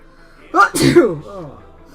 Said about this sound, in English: I'm probably gonna sneeze in a sec.